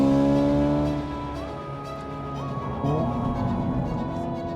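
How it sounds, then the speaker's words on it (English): A Hyundai IONIQ 5 N electric car drives on the Laguna Seca track, giving off a moderately loud, engine-like tone that drops sharply as if shifting and then climbs again, with no talk over it. "It may not sound like I'm in an electric vehicle, but I am. This is the Hyundai IONIQ 5N, and I'm on Laguna Seca."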